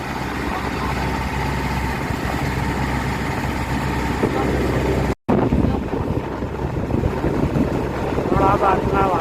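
Boat cruising across the open sea near Bangaram island, a steady engine drone with rushing water and wind buffeting the microphone, loud and continuous with one brief dropout.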